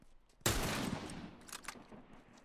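Gunfire in The Last of Us Remastered multiplayer: one sharp, loud shot with a rattling burst, then a few fainter cracks trailing after it.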